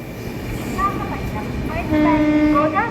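Tirupati to Bhubaneswar weekly superfast express running at night past a skipped station, a steady rumbling roll of wheels and carriages with a tonal whine rising toward the end.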